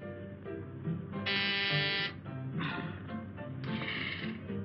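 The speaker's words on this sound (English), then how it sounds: "Stop pressing that buzzer." An electric door buzzer sounds in three insistent bursts, the first long and the others shorter, fairly close and loud over a low background.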